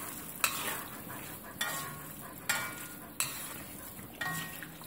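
Cubed cheese being stirred in a pan, the spoon scraping at five or so regular strokes over a soft, low sizzle that continues steadily underneath.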